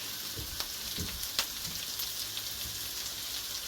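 Canned potatoes fry in fat in a pan for a quick meal, a low, even sizzle with scattered crackles and pops, close and fairly quiet with no talking.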